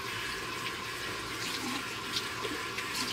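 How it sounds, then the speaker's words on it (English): Warm water runs steadily from a household tap, a constant soft hiss and splash with no voices over it. "let this get warm, the water get warm."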